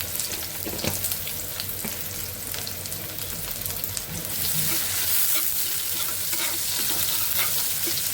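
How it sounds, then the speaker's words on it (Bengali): Onion, garlic and cumin sizzle in hot oil in a wok, a loud, dense crackling hiss that continues throughout with occasional stirring clicks and no voices. "তেলে দিয়ে দিচ্ছি পেঁয়াজ রসুন আর জিরা দিয়ে দেবো"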